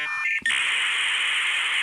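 A steady, high electronic beep tone cuts in just under half a second in and holds unbroken to the end, following a brief voice-like sound at the start.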